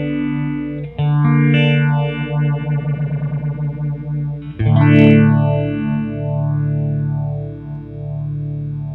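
Electric guitar runs through a Soundblox pedal as its speed knob is changed, giving loud distorted chords that swirl with a sweeping modulation, a quick rhythmic flutter in the middle, and slower sweeps at the end.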